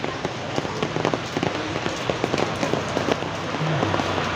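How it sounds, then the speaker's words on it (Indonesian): Steady rain in Sungsang village, Banyuasin, patters on a surface, a dense continuous hiss with scattered sharper drops throughout. "Ini lagi hujan di Sungsang, lagi berteduh."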